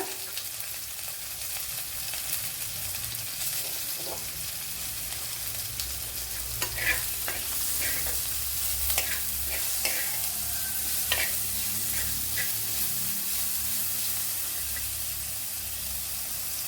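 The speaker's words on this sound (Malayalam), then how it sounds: "വെളുത്തുള്ളി ഇഞ്ചി നല്ല മൂത്തതിന് ശേഷമാണ് സവാള ഇട്ട് കൊടുത്തത്" Onions sizzle in a pan with garlic and ginger, a soft steady frying hiss broken by scattered clicks and scrapes of stirring, fairly quiet throughout.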